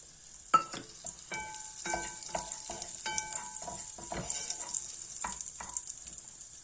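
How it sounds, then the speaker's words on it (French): A small knob of butter melting in a pan, a soft, quiet sizzle with repeated sharp clinks and scrapes from a utensil against the metal. "On va faire fondre notre noisette de beurre"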